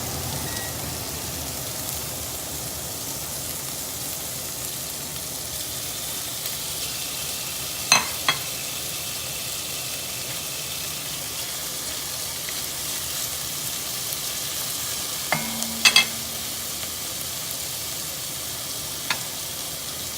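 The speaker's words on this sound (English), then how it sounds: "You just want to brown the meat." Beef pieces browning in a hot pan for Japanese curry give a steady, even sizzle that fills the whole stretch, with a few sharp utensil clinks and scrapes near the middle and toward the end.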